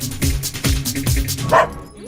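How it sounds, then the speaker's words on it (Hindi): A dog barks several times in quick succession close by, short loud woofs with a brief whimpering note near the end, in a Hindi-dubbed comedy film scene. "ये कुत्ता अपनी दीदी को लेकर क्यों आ रहा है?"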